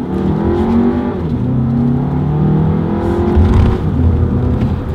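Engine of a 2018 Volkswagen Tiguan with a 2-litre turbo, pulling hard through a Triptronic downshift: a steady, loud drone with rising and falling harmonics as revs climb and shift, heard from inside the cabin with no talk.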